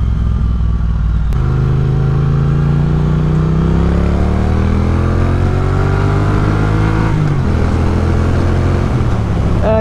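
Close, loud engine of a Triumph Speed Twin 900 on a test ride rises steadily in pitch as the bike accelerates through the gears, with a brief shift dip near the end.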